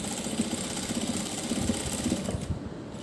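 A sewing machine stitching a boat neck seam runs steadily, its needle chattering in a fast, even rhythm, close and moderately loud with no pauses.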